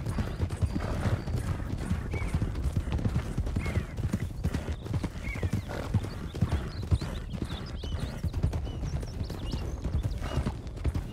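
Horse hooves clip-clop in a fast, continuous rhythm while the horse is ridden, with occasional snorts or whinnies, steady and fairly close throughout, no speech over it.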